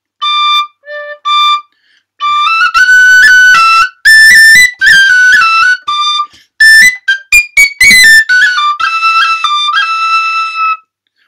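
Tin whistle playing the jig Dodo's Delight, bright clear piping notes in short phrases, starting with a few separate tones, then running into quicker ornamented passages, loud and close with no talking.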